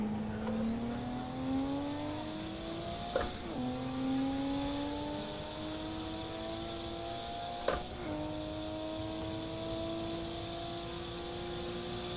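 Nissan R31 Skyline Group A race car in Assetto Corsa at Bathurst: a loud, steady engine drone climbs in pitch, breaks sharply at two gear shifts, then settles into a sustained high whine with no talking.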